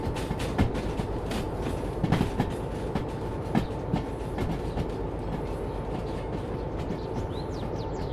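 A train runs steadily on rails, giving a continuous close rumble broken by irregular clicking wheel beats and rail knocks, with no voices.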